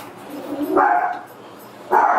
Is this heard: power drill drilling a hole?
no